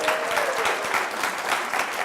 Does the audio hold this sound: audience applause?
yes